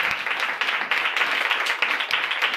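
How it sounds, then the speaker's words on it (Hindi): A congregation at a church service claps loudly together. The crowd's hands make a dense, steady patter with small rhythmic surges, close and continuous. "आइए खुदा यीशु के लिए जोरदार तालियां बजाएं"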